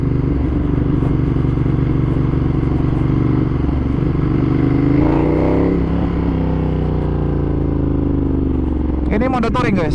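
A modified 2015 Ducati Monster 1200S is ridden in touring mode, its engine a loud, steady throb with pitch sweeping up and down as it revs, under a rider's continuous talking.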